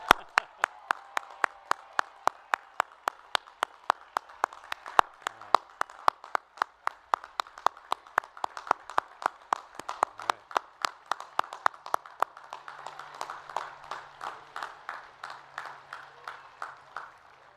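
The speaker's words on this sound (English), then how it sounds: "can we do one more really loud applause for our newest Bradley alums?" Applause for new graduates at a 2021 Bradley University Foster College of Business commencement: crisp, evenly spaced claps keep a steady beat for about twelve seconds, then loosen into a softer, scattered ripple, with no talking.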